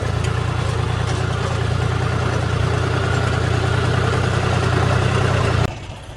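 A tractor engine idles steadily nearby with a loud, continuous low rumble and vibration, then drops off sharply just before the end.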